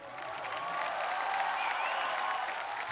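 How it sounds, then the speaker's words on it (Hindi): Steady, dense applause from a studio audience at an Indian television talent show, loud and continuous throughout with no talking over it. "तो आगे एक जोरदार तालियां हमारी करिश्मा के लिए भी।"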